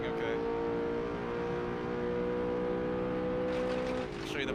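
A video game mod car with all-wheel steering drones past with a steady, sustained engine tone that shifts slightly near the end, with faint talk alongside.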